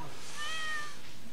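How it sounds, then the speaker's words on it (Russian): A cat meows in the Stardew Valley farming video game, one drawn-out, tonal in-game cry rising and falling over a soft background hum, heard alone and close. "Кот кричит, кота надо,"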